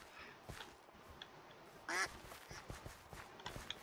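Ducks in the video game Minecraft quack faintly against low background noise, with one louder, raspy quack standing out briefly in the middle among scattered soft clicks.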